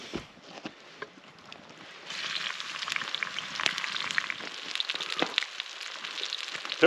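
Mushrooms frying in a very hot pan at a first-snow camp: soft ambient noise at first, then a sharp rise into steady close sizzling with crackles and occasional clinks of stirring, no talking.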